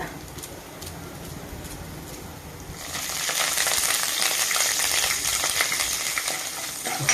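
Cumin, dried red chillies, garlic and asafoetida crackle and sizzle in hot oil for tempering, the broadband frying noise steady at first and then growing louder and denser partway through, with no voices.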